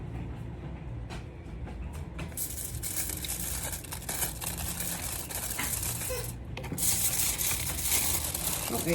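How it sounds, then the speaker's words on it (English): Crinkling foil rustles and crackles close by as a piece of salmon is wrapped, starting with scattered taps and building into dense, continuous crumpling. "Don't ask me how I'm wrapping this fish."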